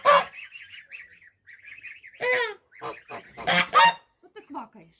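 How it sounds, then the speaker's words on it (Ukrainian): Ducks quack repeatedly in loud, nasal bursts close by, overlapping in an irregular chattering rhythm with brief pauses. "Що ти квакаєш? Чого ти квакаєш?"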